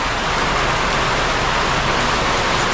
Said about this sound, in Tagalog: Kahit malakas yung ulan, di ba?